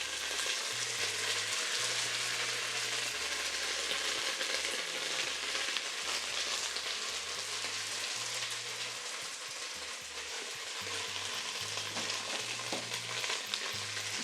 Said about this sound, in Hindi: 1 खाने का चम्मच लहसुन का पेस्ट मैं भर के डाल रहा हूँ